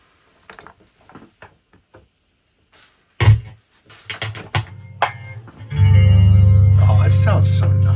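Electro-Harmonix Small Clone chorus pedal from the 1980s–1990s, a few sparse guitar plucks followed by louder strummed chords swirling with chorus and a long sustained note ringing out near and steady.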